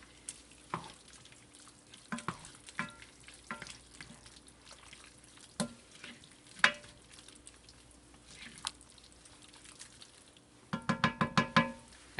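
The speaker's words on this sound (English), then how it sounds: "And we're going to give that a stir." A spoon stirs Asian-style braised beef with lime juice and toasted sesame seeds in a pan, with soft scrapes and clinks at irregular intervals over a faint sizzle, ending in a quick run of rapid stirring taps.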